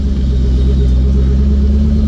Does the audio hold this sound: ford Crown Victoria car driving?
yes